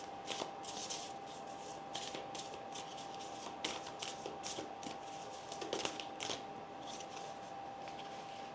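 A deck of oracle cards being shuffled by hand, with soft, repeated riffling and flicking bursts at a steady rhythm, close and quiet, with no talking.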